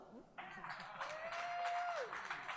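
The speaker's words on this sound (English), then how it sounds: "huge cheer there, Ian" A live launch-event audience breaks into cheering and applause for Ian Eyre, head of Nashville Soccer Club, a broad crowd wash that swells after a brief lull and holds steady, with a faint tone running through it.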